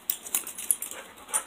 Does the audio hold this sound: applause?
no